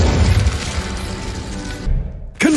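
A fire spell cast in Hogwarts Legacy gives a sustained, loud, broadband whooshing roar that drops away briefly near the end before a fresh burst flares up.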